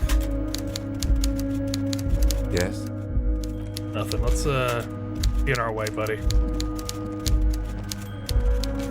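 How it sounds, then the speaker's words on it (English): Rapid, steady typewriter-style key clicks fill a room in the video game Disco Elysium, running loud and close throughout while someone talks over them. "Why is the typing so loud in here?"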